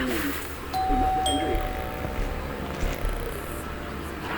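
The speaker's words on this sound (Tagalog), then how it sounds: "Doorbell again." A doorbell rings once with a clear electronic ding-dong tone that decays, heard indoors over a low background hum, with quiet voices nearby.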